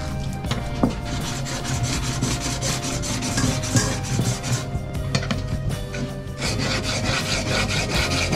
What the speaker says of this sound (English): Sharpening all the chisels.